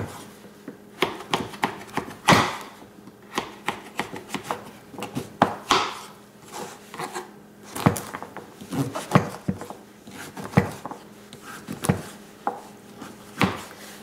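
A knife chops repeatedly through a delicata squash on a cutting board, cutting it lengthwise, with irregular sharp thunks and scraping strokes at close range and no talk.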